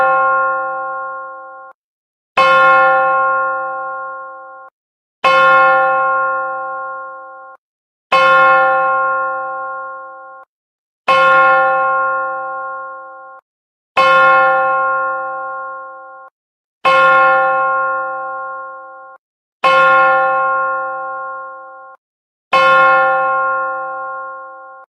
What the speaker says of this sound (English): we're going to give him a 10 bell salute.